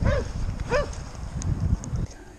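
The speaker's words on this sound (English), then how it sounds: "Yep, dogs." Two sharp, close dog barks ring out early, one at the very start and another a moment later, over rumbling outdoor noise during a bikepacking trip in Australia's Snowy Mountains.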